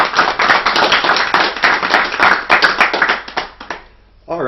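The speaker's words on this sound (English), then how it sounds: "let's give them a round of applause." Audience applause at the Crystals For Life 2013 event, a dense burst of many hands clapping that thins out toward the end before a voice begins.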